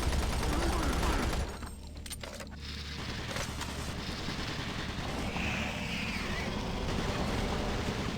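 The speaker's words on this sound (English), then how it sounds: "Warning, automated turret guns online." Automated turret guns in Doom 3 BFG Edition fire in a dense, continuous rattle after a brief opening burst, with loud game noise throughout and a spoken warning announcement mixed in.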